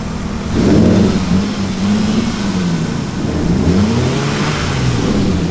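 A Lexus IS300 engine revving: a mid-pitched whir rises sharply early on, then holds at a steady drone with slight pitch swells, loud and close with no talk.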